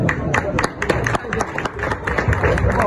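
Brisk, dense clapping from a crowd at a school donation ceremony carries on steadily for a few seconds, with a murmur of voices underneath.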